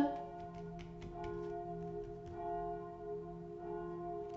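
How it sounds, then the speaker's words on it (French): Church bells ring steadily with sustained tolling tones, sounding somewhat distant and moderately quiet throughout. "Accompagné des cloches de l'église."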